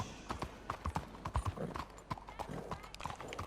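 A horse's hooves clip-clop in quick, uneven beats in Red Dead Redemption 2, close and clear, with a voice talking over them.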